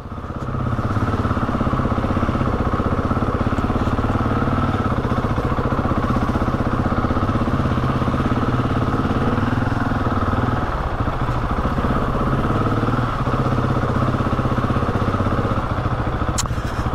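A Husqvarna 701 single-cylinder motorcycle rides over slippery cobbles in winter, its engine a loud, steady, close drone throughout with faint rattles from the rough surface, and no one talking.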